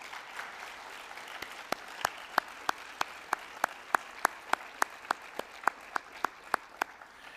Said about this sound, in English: let's give a big round of applause to everyone that was involved in planning this